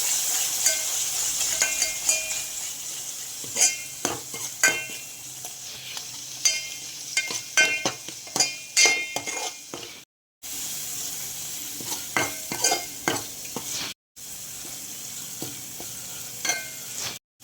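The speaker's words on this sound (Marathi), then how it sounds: "त्यामध्ये मिरची पावडर टाकून, थोडीशी हळद टाकून, थोडासा काळा मसाला टाकला आहे घरचा. छान मिक्स करून घ्यायचा" Masala with chili powder, turmeric and homemade black masala sizzles in oil in a pan while being stirred, a soft steady frying hiss broken by sharp repeated scrapes and clinks of the spoon, close up, with two brief cuts to silence.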